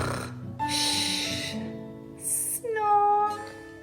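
A storybook reader imitates piglets snoring with a run of nasal snorts and squeaky, wheezy vocal sounds, several short bursts with rising and falling pitch, close and fairly quiet.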